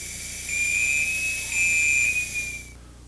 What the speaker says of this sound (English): listen for the warning whistle